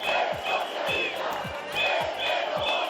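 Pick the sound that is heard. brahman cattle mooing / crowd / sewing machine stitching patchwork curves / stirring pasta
crowd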